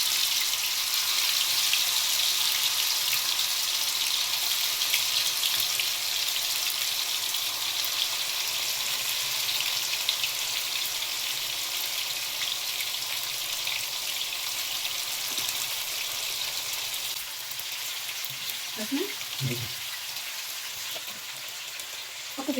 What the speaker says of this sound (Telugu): ఇప్పుడు మనం దీన్ని మెల్లిగా ఫ్రై చేసుకుందాం.